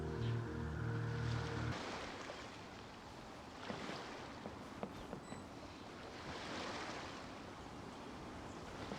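Calm ocean waves wash steadily in the Genshin Impact game world, a soft continuous surf with faint splashes, after a brief musical tone fades out at the start.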